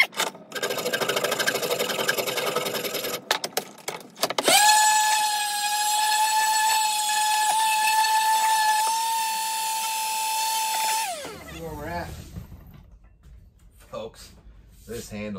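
A power sander smooths gouges out of a single-bit axe head being restored, a steady loud whine running for several seconds and stopping abruptly; clattering handling noise comes before it.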